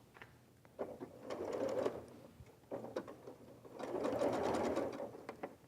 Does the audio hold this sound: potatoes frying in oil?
no